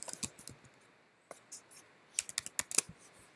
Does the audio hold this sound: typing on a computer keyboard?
yes